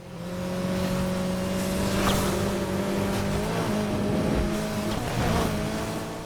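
A Mitsubishi Evo X in Need for Speed Heat holds a steady, loud engine drone at high speed, its tone shifting slightly as it accelerates through a race alongside other supercars.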